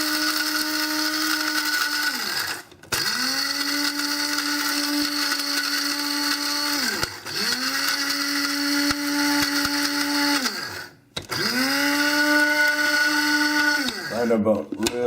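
Eggshells ground into powder in an electric grinder, a loud, close whine that runs in three long bursts with brief pauses, then a shorter rattling run at the end.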